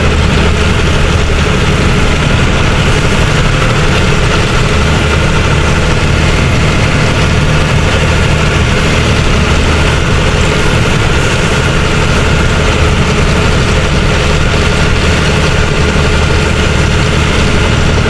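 A vehicle engine pulls uphill in fourth gear on the road from Pokhara to Butwal, a loud, steady, low droning hum that holds unbroken throughout with no voices.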